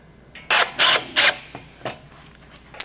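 Bolts with washers and spacers are run loosely into an oil cooler guard on a BMW G80 M3. Three close, crisp bursts of ratchet or mechanism clicking follow one another, then a couple of fainter clicks. No one speaks.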